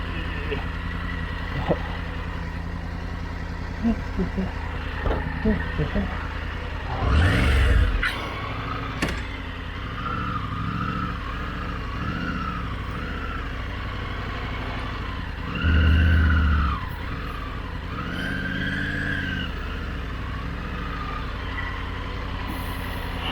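Triumph Tiger 900 motorcycle rides off road in Grand Teton National Park, a steady engine drone with wind rumble and a few louder bursts of throttle, close to the rider.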